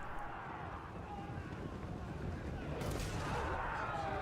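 Avalanche mortars fire a volley in a Total War: Warhammer 3 battle, heard as a dense, continuous rumble of distant blasts with battlefield noise that swells slightly toward the end, with a voice faintly underneath.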